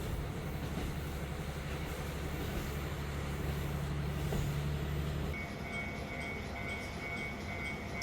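Kushiro Norokko sightseeing train running through foggy marshland in Japan, a steady low rumble of wheels and carriage noise heard from on board, shifting in tone partway through.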